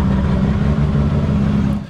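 Loud, steady engine roar from a 900-horsepower BMW M3 E92 race car, heard up close with a deep, sustained drone for about two seconds and no talking.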